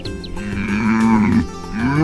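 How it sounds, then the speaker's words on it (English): A donkey brays loudly and close by with a sustained, wavering tonal call that rises and falls, heard alone as part of a children's animal-sounds lesson. "This is a donkey. Hee-haw!"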